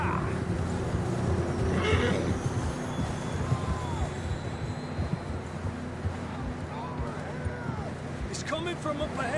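Horses in a PS4 video game whinny twice in drawn-out rising and falling calls over steady hoofbeats, set against a continuous bed of game ambience with voices talking throughout.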